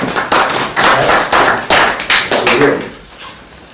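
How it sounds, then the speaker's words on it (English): An audience gives a round of applause, loud close claps arriving in uneven bursts that rise and fall, then fading away in the final second. "let's give him a round of applause"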